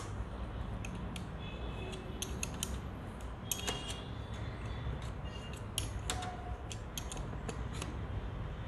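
Metal fitting being tightened on a motor, giving repeated creaking, ratcheting clicks and short scraping strokes over a steady low hum, close by with no talking.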